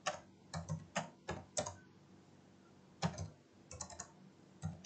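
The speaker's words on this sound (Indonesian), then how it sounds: "Kita ketikkan di sini" Computer keyboard keys are typed in quick, close clicks, a few short clusters with a pause between, alone in a quiet room.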